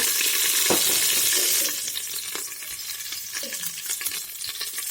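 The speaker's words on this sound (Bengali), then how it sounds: "রসুন কাঁচা লঙ্কা ভেজে নিয়েছি" Garlic and green chilli fry hard in oil inside a pressure cooker, a loud, dense hiss and crackle throughout, easing slightly partway as a spoon scrapes and stirs through the pan.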